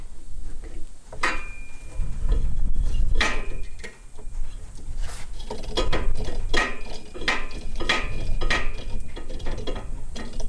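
Metal clamp being cranked tight on a butcher block tabletop, a run of close ratcheting clicks and clanks with metallic scrapes in irregular bursts, loud and near, no talking.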